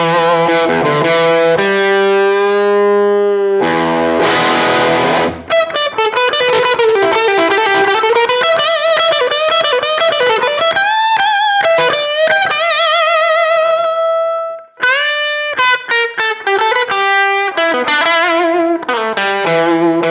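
A Gibson Flying V electric guitar is played through heavy distortion. Loud sustained notes and chords bend, shift and run into quick riffs with a short break midway, and the guitar plays alone with no voices.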